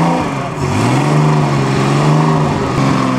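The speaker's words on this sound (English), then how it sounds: "this is an AC. This came in. And it starts right up." An AC classic sports car engine idles steadily and loudly at close range, with a smooth, even note and a slight rise in revs partway through.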